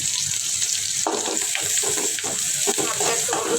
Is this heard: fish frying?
yes